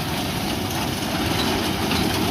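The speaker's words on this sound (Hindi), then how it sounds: "आपके सामने रैपर बिंडर मशीन है जी, जो बिल्कुल इन्होंने न्यू ली है।" A new Turkish-made reaper binder mounted on a Fiat 640 tractor runs continuously nearby, giving a loud, dense, steady mechanical roar over a low engine drone.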